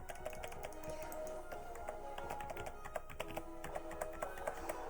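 Rapid typing and tapping on a computer keyboard, steady and close, over background game music and ambience.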